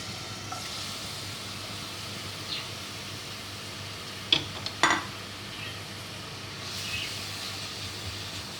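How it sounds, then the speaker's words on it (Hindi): Sliced onions frying in hot oil, a steady soft sizzle holding throughout, with a couple of brief utensil clinks and stirs near the middle. "ऑयल जब गर्म हो जाएगा तो फिर हम इसमें प्याज शामिल करेंगे।"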